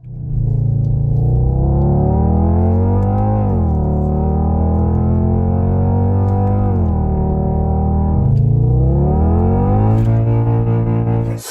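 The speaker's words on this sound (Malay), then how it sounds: "dia ada virtual gear shift atau VGS serta bunyi engine fake yang dipanggil EASD" Synthetic engine sound from a Kia EV4 GT electric sedan's EASD system plays loud and continuous, rising in pitch through simulated gear changes with sudden drops at each shift, buzzy and distorted.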